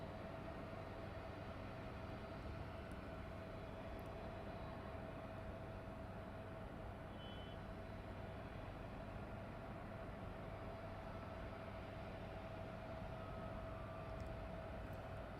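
A West Atlantic cargo aircraft taxis at night at East Midlands Airport, a faint, steady distant engine rumble with a constant whine, unchanging and without speech.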